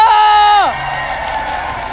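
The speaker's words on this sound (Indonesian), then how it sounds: "EPL Arena, mana tepuk tangannya?" An esports arena crowd at an MPL Indonesia Season 11 Mobile Legends match cheers and applauds, a broad steady roar swelling in just as a host's voice trails off.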